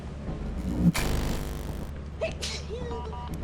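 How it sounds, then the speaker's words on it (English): A single abrupt sneeze bursts out close by, followed by faint murmuring and background noise. "Are you making fun of my sneeze"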